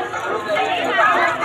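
Dense crowd chatter at the Anganewadi fair, a close, continuous murmur of many voices and bustle filling a brief moment without pause.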